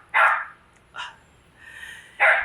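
Dogs bark sharply and close by: a loud bark, a shorter one, a fainter drawn-out sound, then another loud bark, all over a quiet background.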